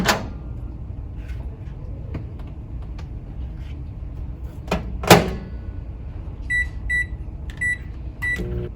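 A microwave oven cooking lasagna pasta gives a low steady hum, with a door clunk and button presses, then a series of sharp electronic beeps near the end; no talking.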